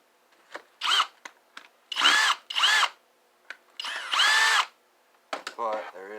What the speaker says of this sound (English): I don't want to drill into anything I shouldn't, so I probably should be careful.